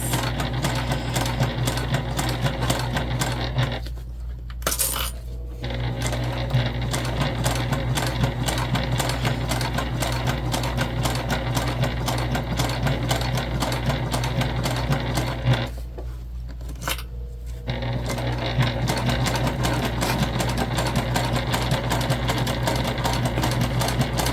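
A sewing machine stitching piping onto a crossbody bag, running in a long steady mechanical whir with two short pauses, close and even in volume.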